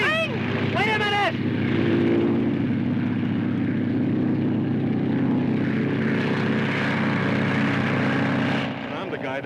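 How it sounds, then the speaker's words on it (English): A propeller airplane engine drones loudly and continuously in a 1934 film scene, a sustained roar with brief voice-like sounds at the very start, fading slightly near the end. "Wexley, get the plane out."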